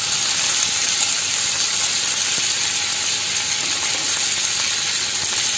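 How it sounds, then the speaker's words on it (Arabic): Onion and garlic fry in a pan while noodles are being prepared, giving a steady, close, bright sizzle with a constant hiss and faint crackle, no voice. "باخد البصل وادي الثوم"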